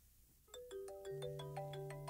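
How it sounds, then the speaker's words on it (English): Incoming international call ringing on a phone through a private phone system: a melodic electronic ringtone of rising tones that starts after a brief quiet moment and carries on clearly and steadily for the rest of the clip. "hopefully that should ring on this phone"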